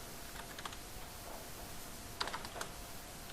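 Password typed on a computer keyboard during a web login demo: faint, scattered key clicks, a few slightly sharper taps clustered near the end, under a steady low background hiss.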